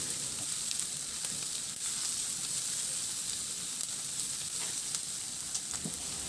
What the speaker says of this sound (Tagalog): At ilagay ko na rin yung bawang. Ihalo lang din hanggang sa maglabas lang din ng aroma yung bawang o maluto rin.